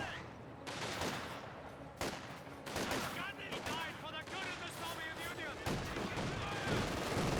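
Small-arms fire rattles at an infantry squad in the Company of Heroes 2 real-time strategy game, with dense bursts and scattered shots running continuously, joined by battlefield noise and occasional voice callouts.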